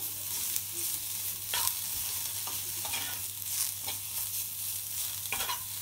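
Garlic fries in a pan with a constant close sizzle, punctuated by repeated scraping stirs at irregular intervals under a low steady hum.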